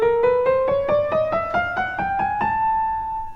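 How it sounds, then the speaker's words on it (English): A chromatic scale climbs through every semitone, one steady note after another in an even rhythm. The tones are clear and bright, the last note is held, and no one talks. "So like all semitones,"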